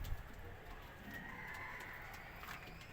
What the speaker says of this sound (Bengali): এই দেখুন কবুতর